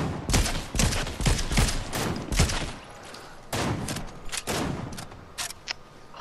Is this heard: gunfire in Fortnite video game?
yes